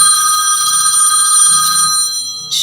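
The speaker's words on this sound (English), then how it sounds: "Whenever my phone rings when I'm on here, it's like answer the call." A telephone rings with a steady electronic bell tone, moderately loud and continuous for a couple of seconds before cutting off, with no talking over it.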